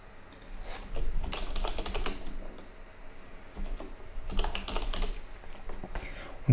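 Fingers type on a computer keyboard while entering a value in HiCAD 2020 CAD software, with two bursts of rapid close key clicks separated by a brief lull.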